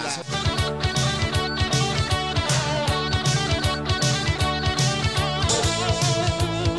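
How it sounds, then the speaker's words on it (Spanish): Upbeat rock and roll music plays steadily with a driving bass-and-drum beat and bright layered instruments, loud and continuous throughout. "Vamos a la música rock and roll."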